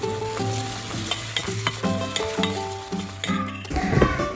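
Chocolate batter for a marble butter cake is stirred by hand in a bowl, with a continuous wet scraping and swishing close by and music playing underneath.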